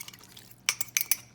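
A red wine vinaigrette being mixed, with a quick run of four or five bright clinking strokes of a utensil against a bowl, close and clear over a quiet room.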